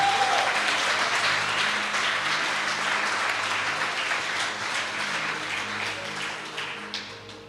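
A church congregation applauds during a teaching service, with dense, steady clapping that carries on for the full stretch and eases off slightly toward the end.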